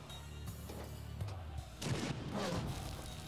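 Gunfire in The Troop, a World War II strategy game, comes as a few heavy, booming shots in quick succession with a rumbling tail. No one talks over it.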